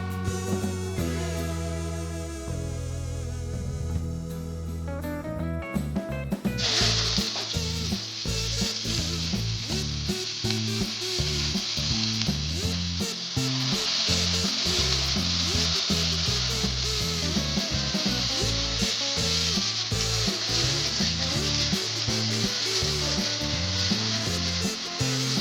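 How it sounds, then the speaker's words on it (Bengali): Chopped onion and peeled garlic cloves hit hot oil and sizzle loudly and steadily after a few seconds of music alone, the bright crackling frying continuing close up with music underneath. "হাফ কাপ পরিমাণ পেঁয়াজ ঝুরি করে কেটে নিয়েছি। 2টা রসুন কোয়া ছিলে নিয়েছি।"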